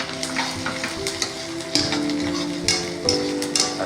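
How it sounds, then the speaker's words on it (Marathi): Chopped onion frying in a pan for an egg curry, a loud close sizzle broken by regular scraping clicks of a spoon stirring it, with no voices. "आता आपण कांदा हलवू, त्याच्यानंतर एक मसाले त्याच्यात टाकत जाऊ।"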